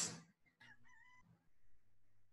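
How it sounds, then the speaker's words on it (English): A chicken crows and clucks near a teacher giving an English grammar lesson, starting with a loud close burst followed by shorter clucking calls and a low background hum. "Please don't mind the chicken."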